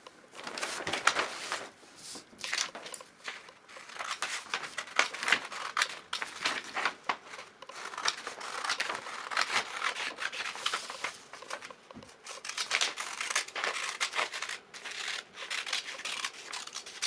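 Scissors cutting through a paper dress pattern for a square-neck Kaba Ngondo Sawa gown, giving continuous close rubbing, snipping and rustling strokes throughout, fairly loud with no talk.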